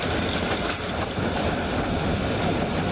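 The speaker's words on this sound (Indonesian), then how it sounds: "Wah, keretanya berjalan teman-teman." A small electric toy train runs along its track with a steady, close clickety-clack rattle of wheels and motor that continues without a break.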